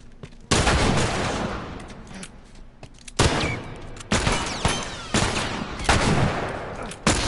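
Gunfire in The Last of Us Remastered during a bandit attack: loud, close bursts of shots at irregular intervals, several sharp cracks each followed by decaying rumble.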